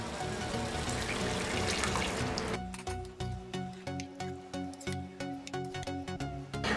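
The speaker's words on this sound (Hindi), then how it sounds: "इसमें हम अब थोड़ा सा पानी ऐड करेंगे" Water is poured from a cup into a pot of browned mutton for biryani, a steady close splashing rush that breaks off into intermittent drips and trickles.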